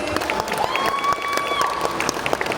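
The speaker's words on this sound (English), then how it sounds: "Big round of applause for GW." Audience applause at a Police Academy reunion panel, a For the Love of 80s event in Manchester: steady clapping from a crowd, moderately loud, with a sustained tonal whine running through part of it.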